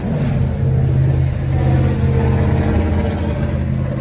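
A loud car with a noisy, rumbling muffler passes close by beside a CSX rail line, its steady low engine drone filling the whole stretch without pause.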